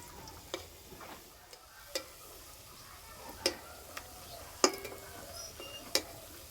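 Small biscuits frying in oil, a faint steady sizzle broken by scattered sharp pops and crackles at irregular intervals, with no voices.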